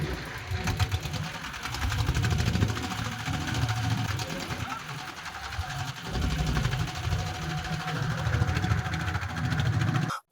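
A river boat's engine drones steadily as it pushes through rough, choppy water toward Char Nondolalpur, a constant mid-pitched hum that runs throughout with a voice speaking over it.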